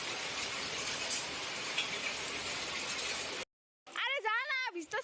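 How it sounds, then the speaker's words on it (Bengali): Steady rain hisses down outdoors, a dense wash of noise, then breaks off briefly before a person starts speaking nearby. "এই যে এখন আবার শুরু হয়ে গেছে বৃষ্টি"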